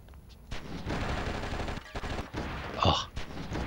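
Enemy gunfire in the action game Oni, heard as a short stretch of rapid, loud automatic shots with a few sharp cracks, largely alone.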